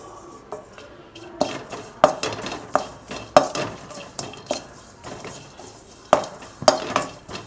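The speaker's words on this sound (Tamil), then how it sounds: "சிம்லேயே வச்சு இப்படியே நல்லா சுக்கையும் நல்லா வறுத்துக்கங்க" Dry ginger being dry-roasted over low heat in a pan for sukku malli coffee, with a spoon repeatedly scraping and clinking against the metal pan in irregular bursts, close and fairly loud, with no one talking.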